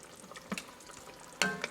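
Dahi lamb curry gets stirred in a kadai over the gas, quiet sizzle broken by a few short scrapes and clinks of a spoon against the pan, the last one sharper and metallic.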